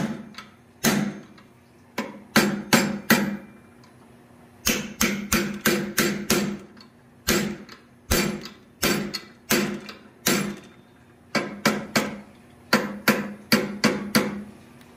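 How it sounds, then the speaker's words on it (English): A blacksmith hammers steel while fullering a one-piece vulture, sharp ringing blows struck in quick bursts of three to five, separated by short pauses, close and loud with a faint steady hum beneath. "Remember, we're fullering these out"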